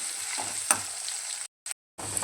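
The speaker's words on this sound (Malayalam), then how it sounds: "ചൂടായ എണ്ണയിലേക്ക് വെളുത്തുള്ളി ഇഞ്ചിയും കൂടി ഇട്ട് മിക്സ് ചെയ്യുക" Garlic and ginger frying in hot oil, a steady close sizzle with a couple of spatula scrapes, briefly cutting out before resuming.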